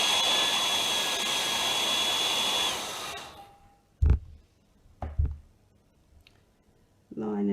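A hair dryer blowing hot air onto a nail wrap runs steadily for about three seconds and then cuts off, followed by a few close knocks and clicks.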